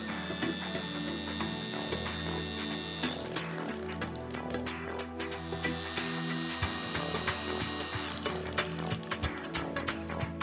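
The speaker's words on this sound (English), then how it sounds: "As soon as the tap binds at the bottom of the blind hole, the torque slip clutch of the collet trips and begins to slip." A FEIN core drilling unit running a tap into a blind hole has its torque slip clutch slip, giving a loud, continuous mechanical drone with rapid rattling ticks and clicks layered on top.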